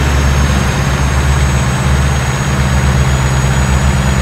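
A modded truck engine held at full throttle in American Truck Simulator, a loud, steady, low droning roar that runs unbroken throughout with no talk over it.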